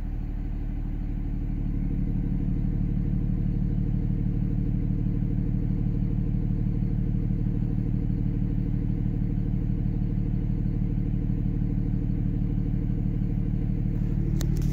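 Cold start of an engine running a Banshee VGT controller: after a brief rise it settles into a steady, close, loud idle rumble that holds evenly for the rest of the stretch, with no voices.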